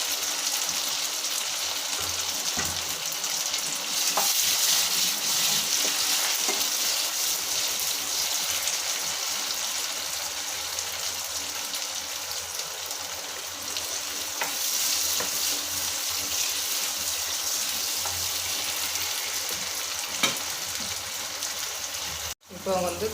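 Chopped tomatoes (two) frying with stirring in a pan for bottle gourd biryani: a steady, dense sizzle runs throughout with occasional stirring scrapes, fairly close and constant, ending with a brief knock.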